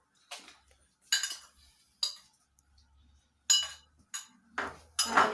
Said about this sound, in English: Now we mix the brown sugar, the white sugar,